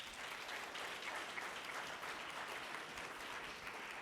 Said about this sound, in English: Let's give these two gentlemen a round of applause.